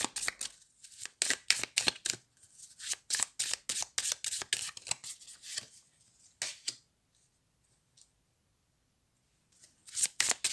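Rapid riffling and flicking of a deck of oracle cards in repeated bursts, close and crisp, then a pause with a few isolated taps before shuffling resumes.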